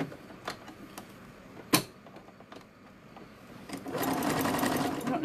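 Sewing machine stitching across the neck and muzzle of a fabric squirrel toy, starting as faint sparse clicks and ticks, then running as a steady whirring stretch of stitching near the end.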